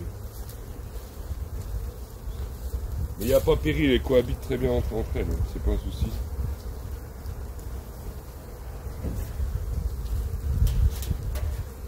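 Honeybees buzzing at a beehive entrance during a spring honey harvest, a continuous close drone of many bees with individual whines passing near, under someone talking in French.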